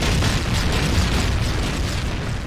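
A tank blowing up in the online war game Heroes and Generals gives a dense, sustained rumbling boom that stays loud and roars steadily for a couple of seconds with no talk over it.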